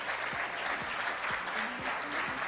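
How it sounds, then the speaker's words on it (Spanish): Applause from the audience at the FAN 2024 award ceremony, a steady wash of clapping with low thumps from handling noise recurring underneath. "un aplauso grande igual para él"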